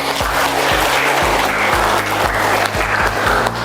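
An audience at a talk or seminar gives a round of applause: loud, continuous clapping with steady, rhythmic low thumps pulsing beneath it, all fairly close.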